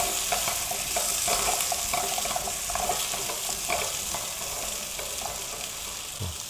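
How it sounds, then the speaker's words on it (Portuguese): Pumpkin (moranga) being sautéed and stirred in a pan, giving a steady close sizzle with scraping stir strokes and faint watery sounds, no talk. "Só uma refogada na moranga e a gente já pode entrar com o caldo."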